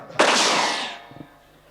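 A firecracker bursts once, sharp and loud, at a wedding procession, followed by a fading hissing crackle and a couple of faint pops.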